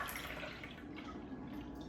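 Broth drains from cooked quinoa, a soft continuous trickle of liquid with faint dripping, quiet and alone.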